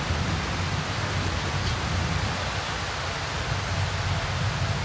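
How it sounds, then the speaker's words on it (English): Steady, dense rainfall in the horror video game Darkwood hisses evenly throughout, a constant wash of drops with no voices and no breaks. "It's raining."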